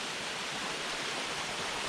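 Steady broadband rush of a waterfall on a woodland hike, continuous and fairly close, with no voices over it.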